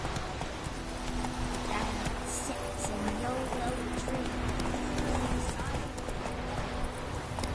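Hooves of the horse Roach from The Witcher 3 clip-clop in a steady gallop rhythm. A voice talks over the hoofbeats.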